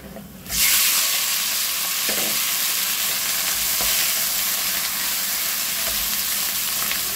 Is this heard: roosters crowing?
no